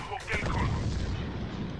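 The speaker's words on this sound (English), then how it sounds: "That's mortars." Mortar fire in the war strategy game Syrian Warfare lands as a heavy, rumbling boom that swells and rolls on over a low, noisy background, with a voice speaking over it.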